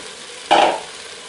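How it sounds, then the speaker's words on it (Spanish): Chickpeas tipped into a hot pot for a chickpea stew with artichokes and prawns, one sudden loud sizzle that flares up and fades over a fraction of a second. "ahora ya le echamos los garbanzos"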